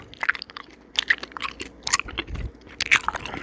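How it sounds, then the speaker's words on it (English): Close, wet bubblegum chewing and mouth sounds for ASMR, soft irregular smacks and crunchy clicks repeating in quick succession with no talking. "All this bubblegum mouth sound, just getting everybody tingles."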